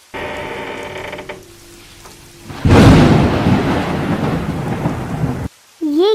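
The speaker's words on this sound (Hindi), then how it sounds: "बाहर बहुत जोर से बारिश हो रही थी" Heavy rain and a loud thunderclap in a Hindi cartoon about a sparrow and a crow; a mechanical whirring gives way to a sharp crack of thunder, then steady loud downpour that cuts off abruptly, followed by a brief tonal cartoon sound.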